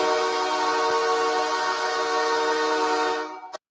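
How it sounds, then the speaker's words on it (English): A loud, sustained train horn sound effect plays on a live radio show, a steady blaring chord that holds for about three seconds before cutting off abruptly. "when you played the train horn"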